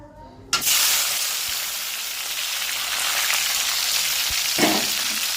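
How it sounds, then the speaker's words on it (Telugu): Onion, tomato and mint are dropped into hot oil, setting off a sudden loud sizzle that holds steady and close, with a brief stirring clatter toward the end. "ఆయిల్ అయితే వేడైంది కదా ఉల్లిపాయ టమాటా పుదీనాకే వేసేసుకుందాం"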